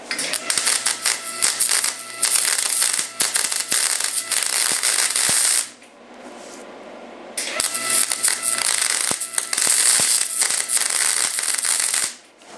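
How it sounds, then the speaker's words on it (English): A motorcycle frame is welded for a dirt drag bike powered by a 13b rotary engine. The crackling, sizzling arc is loud and steady, running in two long bursts split by a short pause, with no voices. "it's important that it's got a good penetrating weld on it, instead of just a little surface thing that's stuck"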